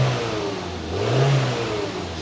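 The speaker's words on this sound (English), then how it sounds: "We'll do a little revving." A Saab 9-3 engine with misfire codes revs up from idle, its steady low drone climbing to a loud swell around the middle before settling back down, heard close with no talking.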